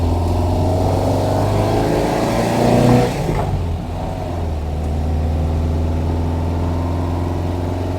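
A 1971 VW Square Back with a worn front end drives along, its air-cooled engine droning steadily throughout, swelling briefly louder around the third second before settling back into a constant road hum.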